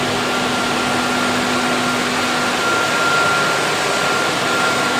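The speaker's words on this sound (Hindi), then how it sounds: "ये जोकी की आवाज़ है, इस वक्त रनिंग है।" A steady, loud mechanical hum of a running jockey fire pump, constant throughout with a faint tonal whine riding on broad motor noise.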